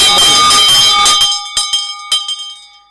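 A bell rings out loudly through a hall at a morning church devotion, its strikes blending into a sustained wash, then thinning into a few separate clangs that fade to quiet.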